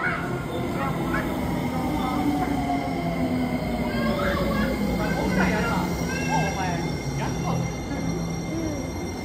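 A sky train in Saitama, Japan, rumbles and clatters steadily nearby as it arrives, wheels squealing faintly, while people talk over the rolling noise.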